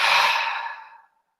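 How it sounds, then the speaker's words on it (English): A single big open-mouthed exhale, a loud breathy sigh that fades out within about a second, heard close and alone during a guided breathing meditation. "And a big open mouth exhale, release."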